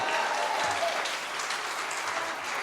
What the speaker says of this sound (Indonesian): tepuk tangan dulu untuk Yesus kita yang luar biasa dulu